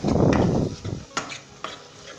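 Green chickpeas (chholiya) stirred into a thick masala gravy for Punjabi cholia, with a close, wet scraping churn for about a second, followed by a few lighter spoon clinks and scrapes against the pan.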